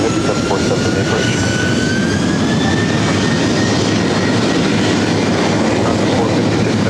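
A Boeing 737-800 airliner takes off from LAX runway 24 right, bound for Calgary, its engines producing a loud, steady roar with a faint rising whine throughout, close and unbroken; no voices.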